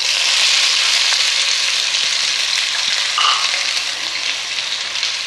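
Chopped onions sizzle loudly in hot oil with popped mustard seeds and cashews while a sago vegetable upma is made, a steady close frying hiss that runs without a break.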